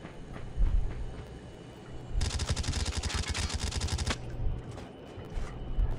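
Shotgun fire in Call of Duty Mobile on a phone, heard as a dense, rapid burst of sharp repeated blasts lasting about two seconds amid softer in-game thuds and background noise.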